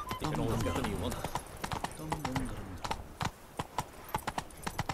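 Horse hooves trot in a steady clip-clop rhythm near at hand as Roach moves along in The Witcher 3, a voice talking over the first part before the hoofbeats continue alone.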